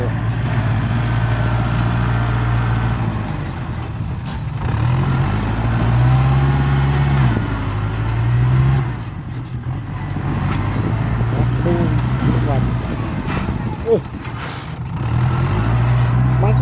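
A heavy truck engine with a turbo rumbles steadily nearby, with a high thin whistle riding above it and a brief hiss partway through.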